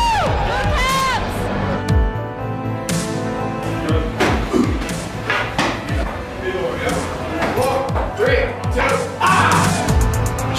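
Hockey arena crowd during a Washington Capitals away playoff game in Central Ohio, a dense roar of cheering with repeated thumps and bangs, voices shouting over the continuous loud din.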